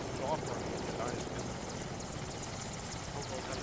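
Helicopter rotor noise from the ArmA II video game, a steady broadband whir that holds at an even level throughout, with voices talking over it.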